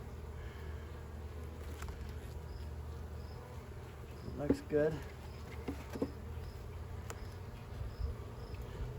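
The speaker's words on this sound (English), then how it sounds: "Okay, so I see bees working." A steady low insect drone of many bees buzzing at an open hive during a hive inspection fills the background, with a brief quiet remark and some handling noises over it.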